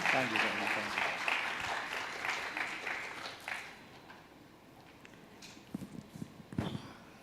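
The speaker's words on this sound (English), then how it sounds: "please give him a loud round of applause" An auditorium audience at the ICHA 2023 event gives a loud round of applause for Dr. C.S. Jairam: dense, close clapping for about three and a half seconds that then thins out and fades into quieter room noise with a few scattered sounds.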